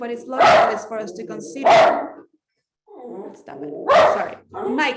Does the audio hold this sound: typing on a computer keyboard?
no